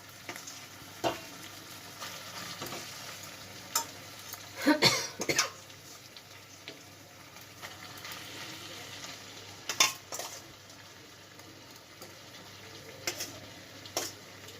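Kochu saag (taro leaves) added to prawn mixture in a hot pan, a low steady frying sizzle with scattered clinks and scrapes of stirring, plus a few sharp knocks; no one speaks.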